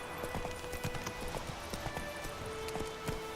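Horse hooves clip-clop at an even walking rhythm in The Witcher 3, faint and steady, with a few quiet tones in the background.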